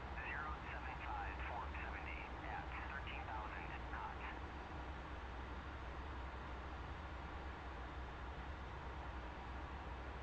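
A military jet taxis in the flight simulator DCS with a faint, steady low engine drone throughout, and brief radio-like chatter is audible early on.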